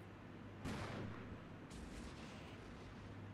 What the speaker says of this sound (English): They're definitely dropping a heck of a lot of artillery over here.